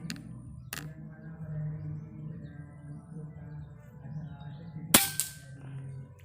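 An air rifle fires at a target at close range, a sharp crack near the start and another snappy shot later, with quiet outdoor background and faint bird chirps between.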